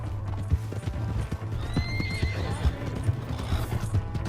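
Horse hooves clip-clop steadily through a scene in Red Dead Redemption 2, with a horse neighing and whinnying midway over a low droning background.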